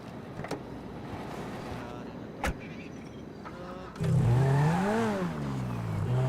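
Hydraulic whine of a flatbed truck bed lowering in GTA 5, preceded by a steady motor hum with a couple of sharp clicks, then a loud rising-and-falling mechanical drone that takes over near the end.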